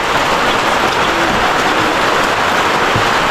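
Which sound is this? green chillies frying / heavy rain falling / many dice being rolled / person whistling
heavy rain falling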